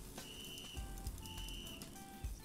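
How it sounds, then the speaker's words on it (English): Steady high whistles repeat over and over in a game about supervising children, held tones that start and stop against a low background rumble and scattered thumps. "Just your constant whistles."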